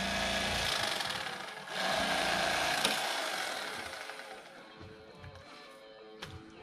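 A cordless electric fillet knife saws through a crappie fillet, its reciprocating blade buzzing with a steady whine and gritty rasp that fades and softens as the cut finishes, close by.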